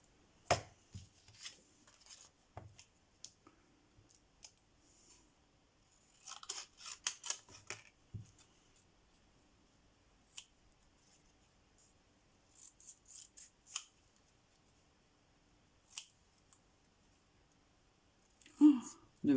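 Scissors snip through pizza box cardboard in short, close crisp cuts, some coming singly and some in quick clusters, separated by quiet pauses.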